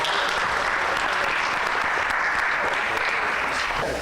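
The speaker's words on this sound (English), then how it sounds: "Can we give her another round of applause?" At an intergenerational community dialogue, an audience gives a speaker another round of applause, a loud, continuous wash of clapping from many hands that holds evenly before easing slightly at the end.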